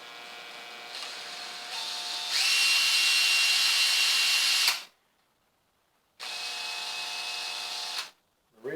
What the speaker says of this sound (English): I'll just drill into there.